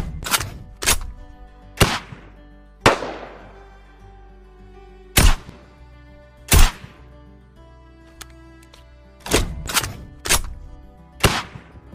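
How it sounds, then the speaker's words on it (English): Tactical assault rifle in Fortnite, a series of sharp loud single shots with ringing tails, spaced irregularly with short gaps, plus faint mechanical clicks of the reload in between, no talk. "I'm going to share with you guys what the weapon is going to sound like when it reloads and also shoots"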